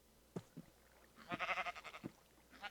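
Minecraft sheep in the game world, a few heavy thudding footsteps followed by a run of nasal, wavering bleats, close and moderately loud with no talk over them.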